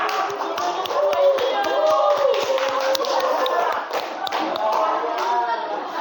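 An audience in a classroom-style gathering claps together for group 6, steady dense applause lasting throughout with a few individual sharp claps standing out, and voices mixed in underneath.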